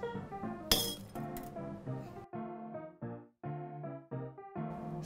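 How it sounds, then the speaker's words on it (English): Ice cubes clink and rattle into a glass mason jar, a sharp first impact followed by a run of bright, ringing chinks, close and alone. "Add cubed or crushed ice to the Mr. Fitz aqua spritz mason jar."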